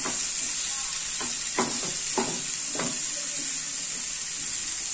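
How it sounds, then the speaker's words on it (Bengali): Mixed red, yellow and green capsicum sautéed in a pan give a steady, loud sizzle, broken by a few scraping stirs of a spatula in the middle, close up with no talking. "হালকা করে আমরা এবার এটা পুরোটা সতে করতে থাকব"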